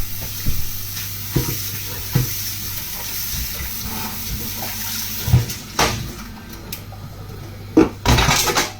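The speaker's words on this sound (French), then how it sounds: "Je vais rincer ma marmite là." Water rinses a cooking pot, giving a steady rushing wash with occasional knocks and clanks of the pot, close and fairly loud throughout.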